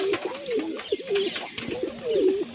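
Adult pigeons and their chicks coo close by, several rolling, rising-and-falling calls repeating in quick succession over faint background clatter, with no talking.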